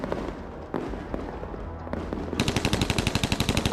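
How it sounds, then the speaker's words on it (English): Gunfire in combat involving Ukrainian soldiers rattles through a noisy background, with scattered shots giving way to a rapid automatic burst of evenly spaced cracks. "The sound of gunfire echoed from every direction"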